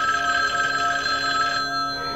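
An old-style electric telephone bell rings continuously and loudly, a bright metallic trill that cuts off near the end.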